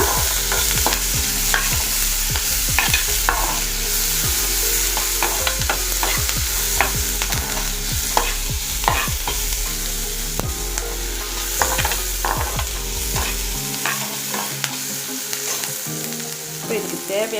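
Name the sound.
crushed garlic being sautéed and stirred in a pan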